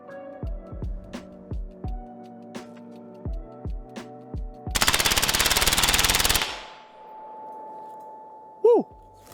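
A SIG Sauer MCX 5.56 rifle is fired single shots several times, then unleashes a loud, rapid full-auto burst of about two seconds outdoors, followed by a faint ringing tone and a brief clank.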